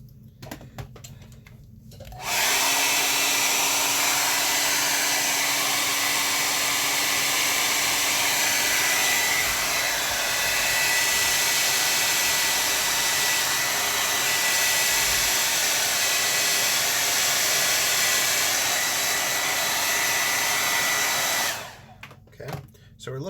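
A handheld hair dryer blows steadily for about twenty seconds, loud and continuous, drying gouache paint on paper; it switches on after a brief quiet start and cuts off near the end.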